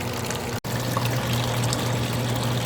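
Steady pouring and trickling water from the pump line of an evaporative swamp cooler, close and continuous with a low motor hum underneath, broken by one brief dropout near the start.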